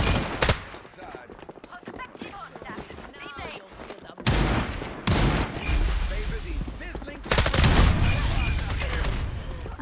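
Rapid bursts of gunfire from a video game firefight, including sniper rifle shots, crack loudly in clusters throughout, with a player talking over parts of the action.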